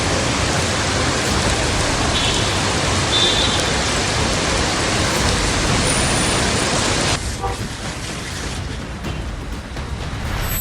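Heavy monsoon rain pours over Delhi streets turning to flooded pools, a dense, loud, unbroken hiss that softens slightly near the end.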